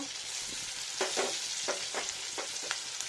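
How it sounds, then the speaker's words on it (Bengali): Ginger, tomato and green chilli frying with pointed gourd in a little oil, a steady close sizzle broken by several soft stirring scrapes at an even pace, with no voices. "আদা, টমেটো, কাঁচা লঙ্কা ফ্রাই করে নেব সুন্দর করে"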